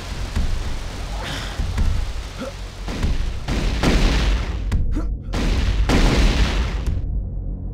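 A plasma rifle in a competitive shooter video game fires in loud, booming bursts that come in quick succession. The shots hiss and crackle over a dense, sustained wash of noise.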